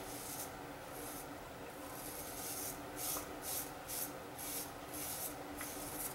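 A straight razor cuts through facial whiskers in close, rhythmic rasping strokes, a series of short scraping bursts over a faint steady background.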